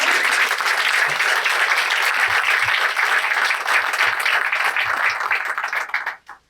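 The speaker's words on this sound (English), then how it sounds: "let's give a round of applause to the entire ICON CDC team." A crowd at a Metro Board of Directors welcome event gives a loud, sustained round of applause, dense clapping filling the room before fading out abruptly at the end.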